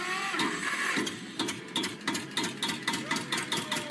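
A car engine running badly, heard as a faint, uneven idle broken by irregular sharp clattering bursts and misfire-like knocks in a stuttering rhythm, with no voices.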